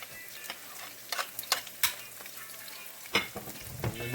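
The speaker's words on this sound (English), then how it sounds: "little oil and cook our vegetables. I'm gonna add my garlic." Vegetables and garlic fry in a little oil in a pan for a spaghetti casserole, a steady low sizzle broken by sharp scraping clacks of a utensil stirring, close and fairly quiet.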